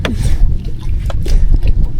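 A motor boat engine drones steadily near an island in Bohol, a close, rumbling low hum mixed with wind buffeting and water noise.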